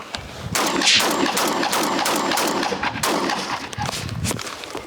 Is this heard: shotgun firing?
yes